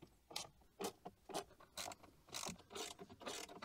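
Torx T15 bolts being loosened from a speaker mount inside a BMW M2, a series of quick ratcheting clicks in short bursts, close and fairly quiet with no talking.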